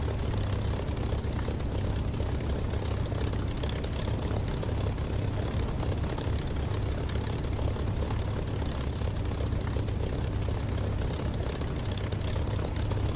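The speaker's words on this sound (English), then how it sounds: "Just hear this Merlin screaming." A water-cooled Merlin piston aircraft engine in the DCS flight simulator, overstressed and close to failing, roars at high power in a loud, steady, unbroken drone with a deep low rumble and no talk.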